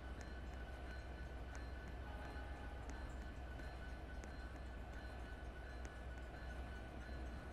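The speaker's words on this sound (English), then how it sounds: "A train is here, gotta hurry before it leaves." A train sits at a station, with a faint, steady low rumble and light rhythmic ticks and clicks that carry on without a break.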